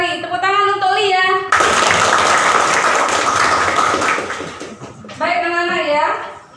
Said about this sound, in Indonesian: Tepuk tangan untuk Lia.